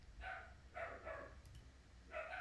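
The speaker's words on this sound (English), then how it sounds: "you can definitely hear him barking in the background" A dog barks in the background while playing with another dog at home, several short harmonic barks in two bursts with a pause between, moderately faint in a quiet room.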